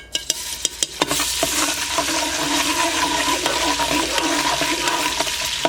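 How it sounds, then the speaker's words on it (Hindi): Steady, dense sizzling of ginger garlic paste frying in hot cooking oil, close by, after a few sharp clicks at the start; no voices. "1 मिनट के लिए इसको फ्राई करेंगे।"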